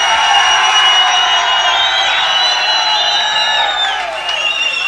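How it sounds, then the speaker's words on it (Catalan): Loud, continuous crowd noise with cheering and whooping from a live nightclub radio broadcast audience at Àrea del Vallès, a dense sustained roar that holds steady throughout with faint voices mixed in. "Aquest fort aplaudiment pels oients de la Cadena Nova"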